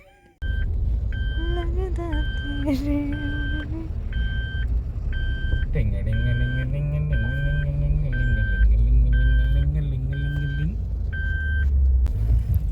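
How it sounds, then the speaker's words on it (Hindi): Traffic heard from inside a car stuck in a jam on a long road trip: a steady low engine and road rumble runs throughout, with a repeating electronic beep pattern over it and talk inside the car. "अब हम और इस ट्रैफिक में नहीं रह सकते, हमें गाड़ी यहाँ से निकालना ही होगा।"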